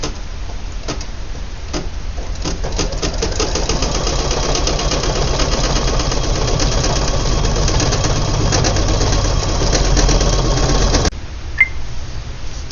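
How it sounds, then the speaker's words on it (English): An embroidery machine runs steadily, stitching an applique placement line on a shirt lapel, a loud, continuous rapid mechanical whirring with fine ticking that stops abruptly near the end, followed by a small click. "we're just going to stitch our placement for our applique shell"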